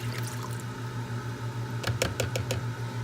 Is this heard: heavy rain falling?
no